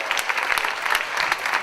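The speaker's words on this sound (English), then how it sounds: "May I have the applause for Jurjen, for Floris, Job, Joris and Marie" Audience applause at a Young NL talk show event at Playgrounds 2012, steady dense clapping from a crowd lasting under two seconds at moderate level, with scattered sharper claps standing out.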